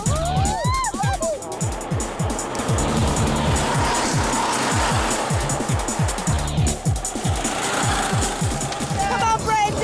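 Racing karts accelerate off the start line together, their small engines buzzing in a rapid, repeating rasp as they rev hard and close by, with tire squeal and people talking and shouting over the din.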